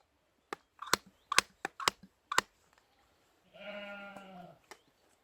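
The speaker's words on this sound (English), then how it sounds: "Can you hear the sheep?" Sheep bleat loudly and close by in a mountain camp setting, a wavering, harmonic call lasting about a second, after a run of sharp clicks and knocks.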